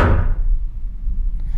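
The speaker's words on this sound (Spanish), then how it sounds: "Me gusta eso que salga el ruido de la puerta." A door sound effect from a horror movie trailer: one heavy boom at the start that rolls off into a fading low rumble over about a second and a half, with nobody talking.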